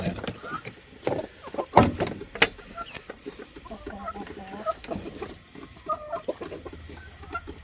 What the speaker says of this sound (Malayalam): കോഴികളൊക്കെ ഏതാണ്ട് പറയുന്നുണ്ട്